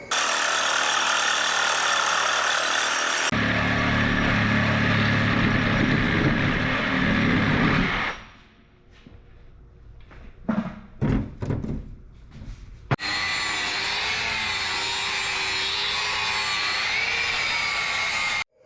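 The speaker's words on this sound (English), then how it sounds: "we're going to start with cutting off that control arm mount and trying to get a cut right across here and lop that thing off" A power tool cuts through the steel control arm mount on a Dana 30 axle, a loud, continuous grinding roar that stops, leaves a stretch of scattered clanks and knocks, then starts again steady to the end.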